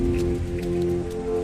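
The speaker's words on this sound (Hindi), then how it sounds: "तभी पूरे इलाके में झमाझम बारिश गिरने लगी।" Heavy rain falling in a steady close patter with scattered drop hits, over a low sustained hum.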